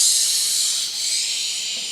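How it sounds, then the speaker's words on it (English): A steady, close hiss of aerosol spray running continuously for about two seconds, bright and airy with no voices. "Push and spray. Push and spray."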